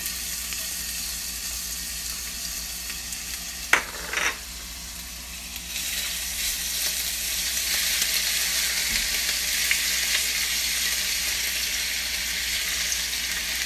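Garlic frying in hot oil in a pan, a steady broad sizzle that swells louder partway through, with a couple of brief utensil knocks near the start and no talking.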